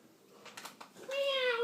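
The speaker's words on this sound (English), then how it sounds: "Meow again." A cat meows once near the end, a clear rising-then-falling cry that follows faint rustling and background voices talking quietly.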